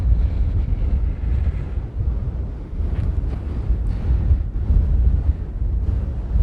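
Strong wind gusting across an open field in the UK, a steady low rumbling roar buffeting the microphone without pause, swelling and easing slightly throughout with no voices.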